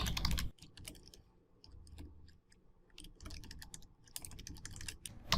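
Rapid keystrokes on a computer keyboard while HTML code is typed, coming in quick irregular bursts with short pauses, close and fairly quiet, with no talking.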